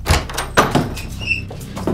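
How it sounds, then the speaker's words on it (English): A door is banged on and then opened in a tense confrontation inside a building, with sharp knocking thumps and a squeaking swing, loud and close. "Open this fucking door!"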